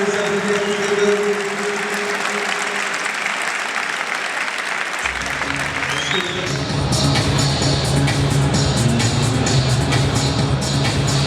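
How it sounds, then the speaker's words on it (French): Audience at a professional boxing match between Issa Murzaev and Kévin Haudiquet bursts into sustained, loud applause that fills the hall, swelling midway with a dense wash of clapping and crowd noise continuing to the end. "les applaudissements"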